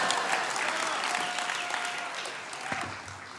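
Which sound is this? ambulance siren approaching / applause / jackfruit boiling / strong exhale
applause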